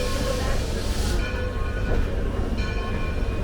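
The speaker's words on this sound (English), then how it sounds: "Steam engine number 60 is running tender first, pulling the Erie caboose and 2 coaches." Steam engine No. 60 running tender first, pulling an Erie caboose and two coaches on an excursion run, gives a steady rolling rumble with rail clatter, heard from on board at close range; a voice briefly speaks over it.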